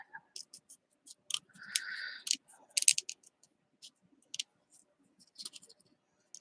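Scissors snipping close around a paper picture for mixed media tags, with sparse small clicks and short cuts, one longer slicing stroke, and quiet gaps between.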